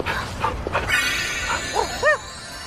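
A dog yips and whimpers in short rising cries, a few close, clear calls near the end over a low background.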